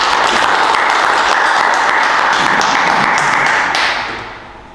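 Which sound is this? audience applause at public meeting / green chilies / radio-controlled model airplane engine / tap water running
audience applause at public meeting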